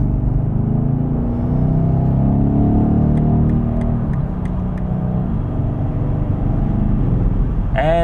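A BMW M850 accelerates hard on the Autobahn, heard from inside the cabin as a deep engine rumble that climbs steadily in pitch, with a brief voice at the very end.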